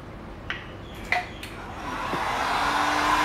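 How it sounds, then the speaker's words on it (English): After a few light knocks, a blowing heat gun starts and builds into a steady, rising whoosh that continues to the end, drying paint on a scratch repair. "I'm going to use a heater, bit of like a hairdryer, to dry this quickly"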